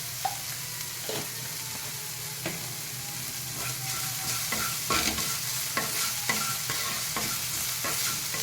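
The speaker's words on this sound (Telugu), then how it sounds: "అల్లము పచ్చిమిరపకాయ కొంచెం పచ్చివాసన పోయేంత వరకు వేగనిస్తాము" Ginger and green chilies frying in a pan, a steady close sizzle punctuated by regular stirring clacks of a spoon against the pan, with no talk.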